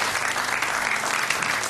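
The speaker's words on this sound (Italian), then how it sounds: "un applauso" Brief burst of dense, loud audience applause at the Sardegna Incanta 2014 show, a thick, even roar of many hands clapping at once with no pause.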